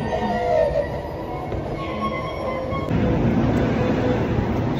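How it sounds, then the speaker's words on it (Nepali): A Seoul subway metro train on Line 6 arriving at a station, with a continuous rumbling roll and whining tones and a deeper rush toward the end, fairly loud. "सो गाइज ट्रेन आयो होइन हाम्रो।"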